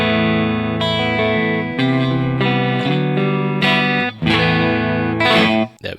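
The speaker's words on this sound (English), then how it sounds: "Let's have a listen to the clean tone without the NUX." A dry, clean electric guitar with no effects pedal plays a series of strummed chords and ringing notes, loud and close, with only a faint trace of room ambience.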